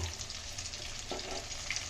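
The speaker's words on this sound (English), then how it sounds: "tuna slice fish frying going on actually" Tuna fish slices sizzle steadily in hot oil, a continuous crackling fry with faint kitchen clatter in the background.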